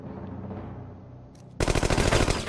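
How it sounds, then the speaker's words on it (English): Submachine gun fire in the tactical video game Silent Storm, a sudden loud rapid burst of shots that cuts in after a quieter stretch of game ambience. "That's an SMG."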